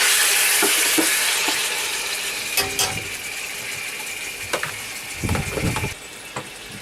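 Pork frying in oil in a hot pot, giving a steady broadband sizzle with a few short bursts of stirring and clattering, close and fairly loud, with no talking.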